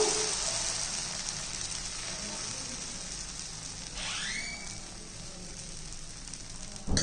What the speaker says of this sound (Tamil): இப்போ உங்களுக்கு தோசை ஊற்றி காமிக்கிறேன்ப்பா